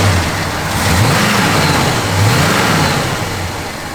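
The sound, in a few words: car engine running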